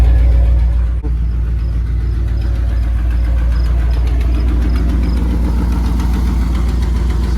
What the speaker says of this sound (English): That's the custom exhaust I made.